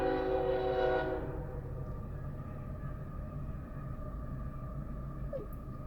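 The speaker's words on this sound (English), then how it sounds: "hey, and there's a train." A train passes a railroad crossing with its horn sounding loud and close for the first second, then a steady low rumble of rail cars rolling by continues throughout.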